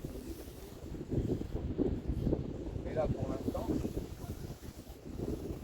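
Wind rumbles against the microphone on a sailing beach used for land-yacht lessons, a steady low buffeting throughout while a person speaks briefly over it.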